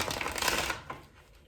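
Tarot cards are shuffled in a quick riffling burst, close and fairly loud for about a second, then trailing off into a quieter rustle.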